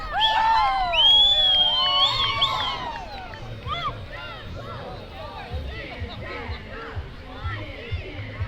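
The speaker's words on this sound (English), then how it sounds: "And they have a cheer." A youth STEM club shouts a cheer while marching in a suburban summer parade, excited young voices rising over crowd noise and street ambience, then fading into general outdoor bustle.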